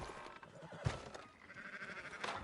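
Sheep bleat in Red Dead Redemption 2, a brief low call amid a busy, continuous ambient game soundscape, moderately faint.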